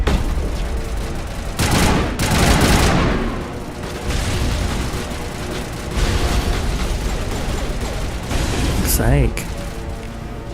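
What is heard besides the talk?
gunfire in video game Mass Effect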